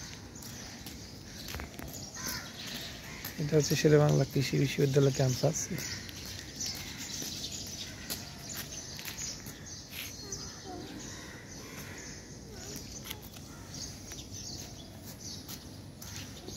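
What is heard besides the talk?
birds chirping and crow cawing on campus morning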